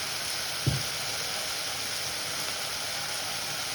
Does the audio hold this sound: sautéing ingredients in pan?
yes